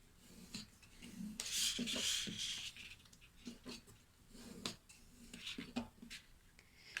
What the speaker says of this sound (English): we will be folding on those score lines towards the bumpy side on both score lines, and we will burnish those